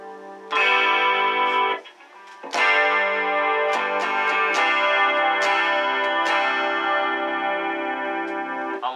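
Bright, doubled guitar chords ring out with a shimmering unison harmonizer effect from a Boss Katana amp, sounding like a 12-string, strummed loudly with a brief pause before sustaining again.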